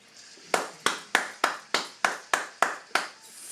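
Slow, deliberate claps ring out for Joey Moreno, about nine sharp hand strikes spaced evenly at roughly a third of a second, close and fairly loud with no talk over them.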